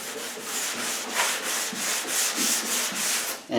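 Sanding block with 320-grit paper working over primer on a 1975 Pontiac Firebird body, giving a continuous close, loud rasp in long back-and-forth strokes.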